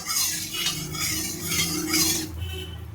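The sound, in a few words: stirring oil in a wok with a spatula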